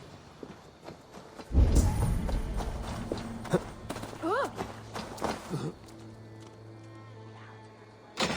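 Horse hooves clip-clopping in Assassin's Creed Valhalla, a burst of galloping that settles into irregular steps, with a whinny, ambient game music and someone speaking over it.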